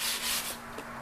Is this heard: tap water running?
no